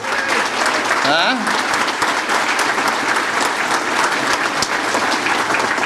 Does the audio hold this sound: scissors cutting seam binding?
no